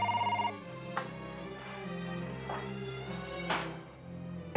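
A telephone rings with a quick trilling burst, followed by a few scattered clicks and thumps in a quiet room.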